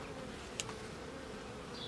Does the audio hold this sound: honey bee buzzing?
yes